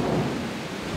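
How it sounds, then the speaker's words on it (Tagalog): Heavy rain pours down during a thunderstorm, a dense, loud, continuous hiss with a deep rumble of thunder underneath, filling the whole moment. "despite na sobrang lakas ng ulan"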